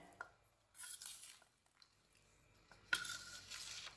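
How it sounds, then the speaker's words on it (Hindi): Chana chaat being stirred and mixed with a spoon in a bowl, giving close, quiet bursts of wet scraping and clinks against the dish, separated by short pauses. "सब चीजों को अच्छी तरह मिक्स कर लेंगे।"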